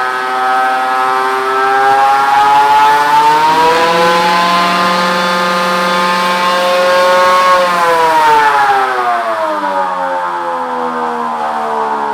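A 2024 L5P diesel pickup truck engine on a dyno run revs hard and holds a steady high drone, pitch climbing then dropping slightly near the end, running continuously with no voices.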